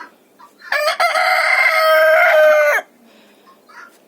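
A rooster crows once, loud and close, a long harmonic call lasting about two seconds amid otherwise quiet surroundings.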